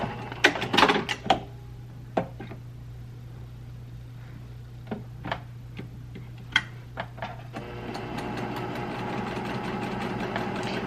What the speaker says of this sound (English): Now on the white bras, I just sew the seams to all one side.